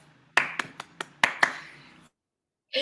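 Applause closing an online art talk: a handful of sharp, close, separate claps with short gaps between them, then silence, with no speech.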